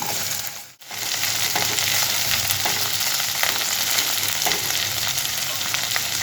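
Okra shallow frying in oil for an aloo bhindi, a steady close sizzle with a brief dip near the start, then continuous crackling and light stirring scrapes throughout with no voices.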